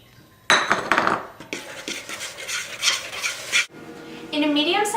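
Flour and powdered sugar being stirred together in a mixing bowl, with repeated clinks and scrapes of a utensil against the bowl, fairly close and loud, with no talking.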